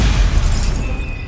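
In Hogwarts Legacy, a Stupefy spell lands with a loud, heavy, booming burst that rumbles and fades over about a second.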